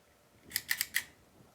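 A 2.5 mm fiber optic click cleaner clicks four times in quick succession, sharp and close, against a quiet background.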